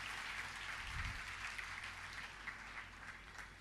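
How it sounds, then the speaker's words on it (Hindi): An audience at a religious discourse claps in welcome, a faint, even wash of many hands heard from a distance under a low hum. "इस समाज की बेटी के लिए जोरदार तालियां बजाकर इसका स्वागत कीजिए।"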